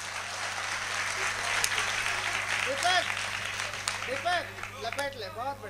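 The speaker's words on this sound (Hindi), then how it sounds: "एक बार ढंग से तालियां बजाओ पीछे तक के लोग।" An audience at a large Hindi poetry gathering in Jawad claps steadily in a broad wave of applause, while a voice speaks and calls out over the clapping toward the end.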